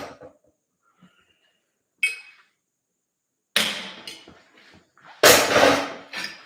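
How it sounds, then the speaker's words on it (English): Several sharp metallic strikes of a bronze hammer on a bolt, a couple of light taps followed by two loud ringing whacks, close by with quiet gaps between them. "We're going to whack it with our bronze hammer."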